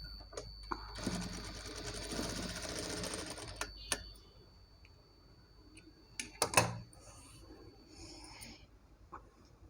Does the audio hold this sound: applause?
no